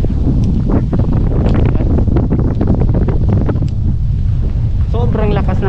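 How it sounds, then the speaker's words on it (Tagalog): Strong wind roars and buffets the microphone by Laguna Lake, with people talking underneath and a brief higher-pitched sound near the end. "Ito mahangin na nga eh."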